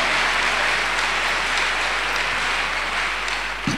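A church congregation applauds continuously in a steady, dense wash of clapping that stays loud throughout, with no talking.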